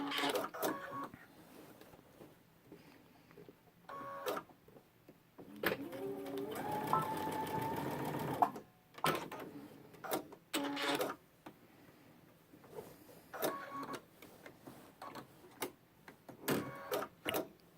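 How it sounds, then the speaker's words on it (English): A sewing machine top stitches a backpack pocket flap in one steady run of about three seconds, framed by quieter fabric handling and clicks before and after. "I will flip up the pocket flap and top stitch that down"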